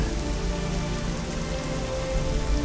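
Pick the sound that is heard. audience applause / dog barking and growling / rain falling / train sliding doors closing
rain falling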